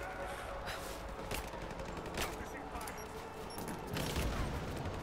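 Shotgun blasts in the video game Rise of the Tomb Raider, several sharp bursts spaced a second or so apart over a noisy, rumbling battle background, fairly loud and close.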